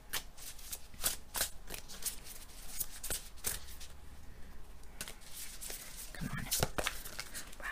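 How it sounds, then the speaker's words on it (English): Slick tarot cards riffle-shuffled again and again, giving a string of sharp, close fluttering bursts and soft card slaps spread across the whole stretch, with a faint low background hum throughout. "I'm going to give these a shuffle real quick because the riffle shuffle"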